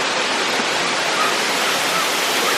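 Waterfall in Koh Samui, Thailand, pouring in a dense, constant roar of falling water, loud and close, with no break through the whole stretch.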